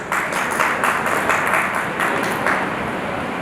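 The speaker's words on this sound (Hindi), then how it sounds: "जोरदार तालियों से अभिनंदन" Applause at a news channel's award ceremony honouring heroes of the Covid period, steady clapping from a gathered crowd with periodic swells, continuous and moderately loud.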